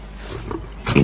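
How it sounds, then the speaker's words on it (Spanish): A thirsty lioness at a waterhole lets out a short, loud roaring growl near the end of a one-second stretch, after a low rumbling background. "Una leona sedienta se acerca al agua."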